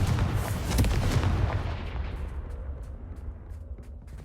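A Confringo fire spell goes off in Hogwarts Legacy as a loud, close booming blast whose rumbling tail slowly fades over several seconds, with no talking.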